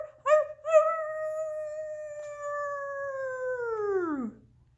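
A human voice imitates a wolf howling at the moon: one long clear howl that starts with a couple of short yips, holds a steady pitch, then slides downward and fades out, with no other sound.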